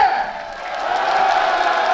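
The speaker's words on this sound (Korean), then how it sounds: "그냥 박수 치고 함성 칠 때는 크게 화끈하게" An audience at a book-launch talk show cheers and shouts in a loud, sustained roar that dips briefly and then swells again, with no speech over it.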